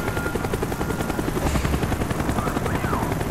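A helicopter in the Call of Duty: Black Ops campaign gives a loud, steady rotor chop, its rapid thumping pulses holding evenly throughout.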